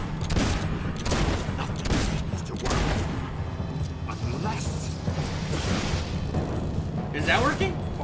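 Gunfire in the Fable 2 video game: repeated loud shots and blasts in a sustained burst of combat, with a voice talking over the action throughout.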